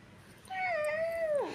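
A small child imitates a cat with a single drawn-out meow that rises, wavers and then drops off at the end. The voice is close and clear against a quiet background.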